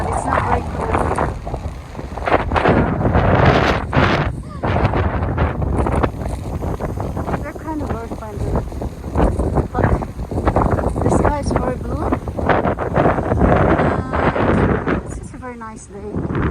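Strong wind gusting outdoors on a hillside park in Spain, buffeting the microphone with loud rumbling bursts while a person talks over it for most of the stretch.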